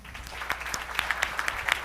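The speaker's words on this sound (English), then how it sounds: "But if we can give everyone a round of applause." A conference audience claps in a short burst of dense applause, with a few sharper individual claps standing out near the front.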